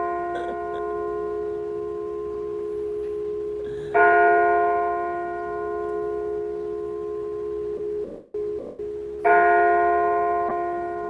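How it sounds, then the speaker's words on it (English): The bell on the Central Park clock is struck by monkey figures, its ringing tones sustaining and swelling twice as new strikes land, with steady outdoor ambience underneath. "They're hitting the bell."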